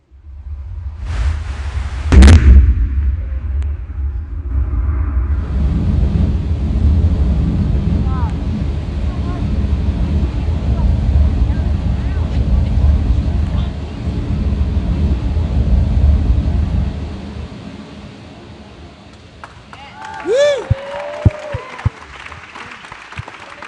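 Blue Origin New Shepard rocket booster lands on its pad, heard as a broad, sustained rushing roar from a distance with wind noise, then fading, followed by scattered cheering and voices near the end.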